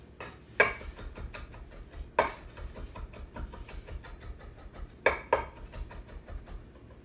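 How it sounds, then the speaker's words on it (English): Garlic being minced with a knife on a cutting board: a few sharp knocking chops stand out against quiet kitchen background, with softer scattered taps between them. "go back over with the knife and get it into a nice mince"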